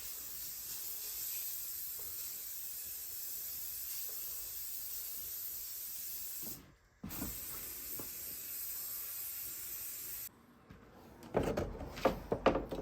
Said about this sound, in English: Now I'm going to spray paint the whole thing black.